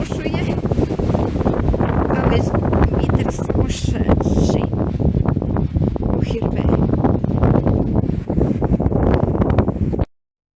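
Strong wind buffets the microphone in loud, continuous gusts, roaring steadily before cutting off abruptly.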